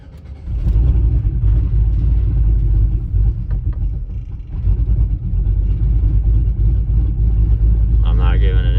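A cammed truck with a cold air intake idles after a short drive in 5 degree weather, a steady loud low rumble with a lopey pulse, with someone speaking over it.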